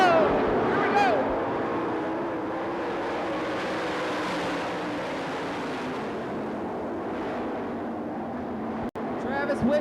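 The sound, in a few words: sprint cars racing in heat race at dirt track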